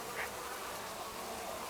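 Bees hum in a dense, steady buzz close by around hives sitting under cacao trees, with no other sounds breaking through.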